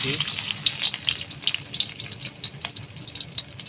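Two dried red chilies and chopped garlic frying in hot oil for dal bhuna, giving a close, steady crackling sizzle dotted with sharp little pops throughout.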